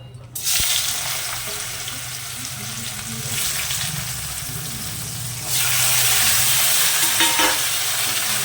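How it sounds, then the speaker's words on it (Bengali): Bitter gourd and potatoes frying in hot oil in a home kitchen, a steady loud sizzle with stirring, the hiss growing brighter and stronger partway through. "আমি এদিকে উচ্ছে আলু ভাজা বসাবো।"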